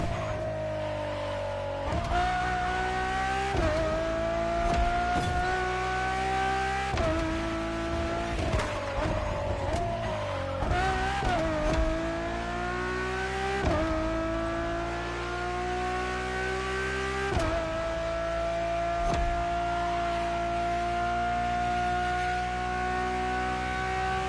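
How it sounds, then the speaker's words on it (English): A Ferrari road-legal Formula One car in The Crew Motorfest roars through repeated high revs, its engine pitch climbing and dropping with each gear change, loud and continuous. "nothing less than a road-legal Formula One, faster on the track but more civilized on the road, Ferrari went all out"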